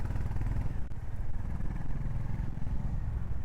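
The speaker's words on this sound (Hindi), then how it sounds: "एग्जॉस्ट का साउंड काफ़ी तगड़ा आता है" A Honda H'ness motorcycle's exhaust thumps with a low, steady pulsing beat while riding, close and fairly loud with wind noise, and no talk.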